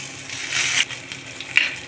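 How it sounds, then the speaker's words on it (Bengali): Green chilies and nigella seeds sizzle sharply in hot oil, a bright crackling hiss that swells and flares in short bursts. "কাঁচা লঙ্কার কালো জিরে ফোড়ন দিয়ে দেবো।"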